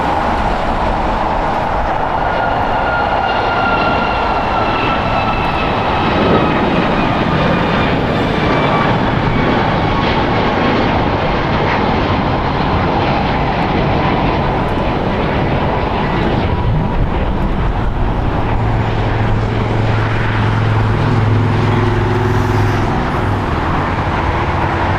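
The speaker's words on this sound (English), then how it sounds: "United Airlines Flight 1786 going to Cleveland. It's a Boeing 737 MAX 9" A United Airlines Boeing 737 MAX 9 jet at Los Angeles International Airport gives a loud, sustained engine roar with rising whining tones that holds throughout, joined by a deeper rumble near the end.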